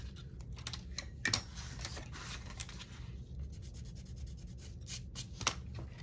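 Paper is cut for a belly band in a papercraft project, with quiet, close-up rasping snips and rubbing strokes in an irregular rhythm and a few sharper clicks, without any talking.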